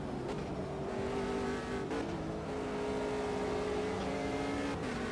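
A race car engine in the sim racing game Automobilista 2 drones loudly and steadily, its pitch rising and shifting through gear changes, with brief tire noise as the car slides around.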